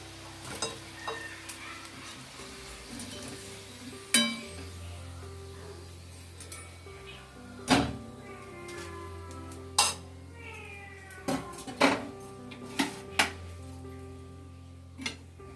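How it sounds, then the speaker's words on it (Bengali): Fried jackfruit kofta balls lifted out of a wok with a metal utensil, giving intermittent clinks and scrapes against the pan over a faint steady sizzle of hot oil. "এবার আমি সব বল তুলে নেব কড়াই থেকে।"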